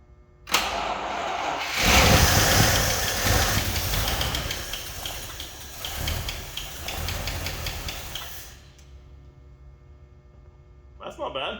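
An old Packard car engine cranks and catches, running roughly and loudly for several seconds with a faint lifter tick before dying away, with a brief burst of noise at the end.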